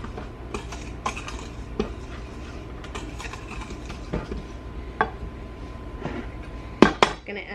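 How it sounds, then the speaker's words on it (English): A spoon clinks and scrapes against a bowl while sugar, salt and baking powder are stirred, with irregular sharp taps over a low background hum and a louder clatter near the end. "And we're just going to give this a quick stir."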